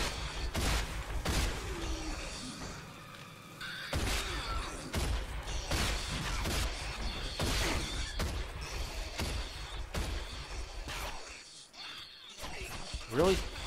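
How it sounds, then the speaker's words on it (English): Authority gun firing in the shooter game Rage, repeated loud heavy gunshots at irregular intervals among impacts and thuds, with someone talking over parts of it. "So let's switch to that authority gun."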